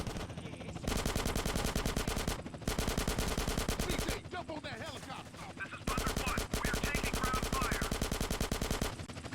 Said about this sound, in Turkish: kurşun yağdırıyorum.